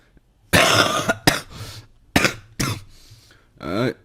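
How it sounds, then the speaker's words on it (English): A handful of sharp, harsh coughs close to the listener, coming in quick bursts with short pauses, ending in a brief voiced groan. "I feel like I'm about to cough"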